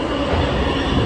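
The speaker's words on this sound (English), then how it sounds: "Another train is coming." A New York subway train arriving at a station, a steady loud rumble of rolling wheels and carriages that fills the whole short moment.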